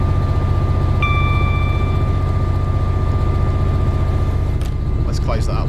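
A Class 66 diesel locomotive engine in Train Sim World 3, heard loud and steady through an open cab window, with a sustained low rumble, a brief tonal ding, and a few clanks near the end.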